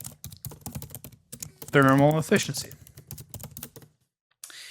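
Rapid keystrokes clatter on a computer keyboard in quick, uneven bursts, close and crisp, while a voice speaks briefly partway through before the typing trails off into silence.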